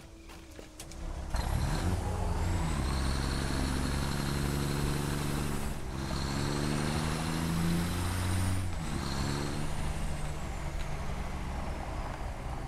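A truck in the factory-building game Satisfactory drives with a steady, loud engine drone whose pitch climbs and drops in gear-like steps, with short hissing pauses as it brakes and slows; no voices.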